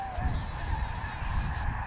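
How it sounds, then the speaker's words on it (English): A field of sitting birds honking like geese, a dense, continuous chorus of overlapping honks and calls under steady background noise, fairly loud throughout. "we stumbled on an entire field of sitting birds"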